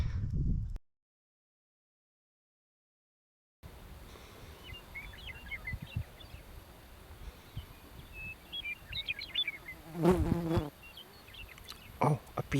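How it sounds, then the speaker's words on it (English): A bee buzzing close to a camera outdoors in the Imperial Valley, a near, fluttering drone that swells and fades, with faint bird chirps in the background after a brief silent gap. "Oh, a bee just landed on my camera."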